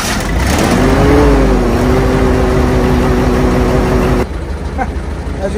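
A Lincoln SA200 welder engine runs with its muffler cut off, a loud, raw, steady exhaust drone that revs up briefly at the start and then holds a constant note before dropping slightly near the end.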